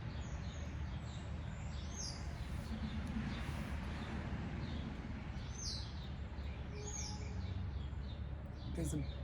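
Faint morning birdsong, scattered chirps and tweets drifting in from a distance over a steady outdoor hiss and low rumble, with no one speaking.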